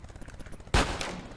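A single loud gunshot cracks out in GTA San Andreas, cutting sharply through quiet ambient game sound and leaving a lingering, noisy tail.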